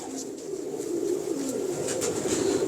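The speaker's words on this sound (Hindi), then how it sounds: "बड़ी नायाब कबूतर है, पुराने कबूतर हैं" Old, rare pigeons coo softly and continuously at close range, with faint rustling and scattered light clicks in the background.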